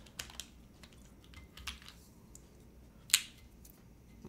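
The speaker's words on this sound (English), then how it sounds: "Let's see how this sounds like versus a cherry cap." Light, quiet keystrokes on a mechanical keyboard fitted with Cherry-profile keycaps, scattered irregular clicks with one sharper clack near the end, in an otherwise still room.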